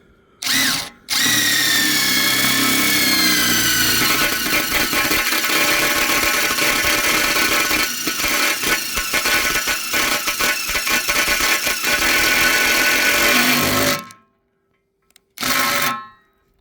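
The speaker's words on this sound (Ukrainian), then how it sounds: "Свердлим ще раз." A power drill grinds loudly and steadily through metal for about thirteen seconds, with short bursts before and after.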